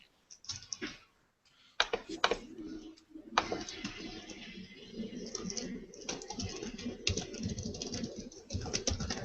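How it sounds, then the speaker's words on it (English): Typing on a computer keyboard during a livestream, with bursts of close keystroke clicks and clatter running through most of the clip after a short quiet gap, over low background noise. "All of the typing noises."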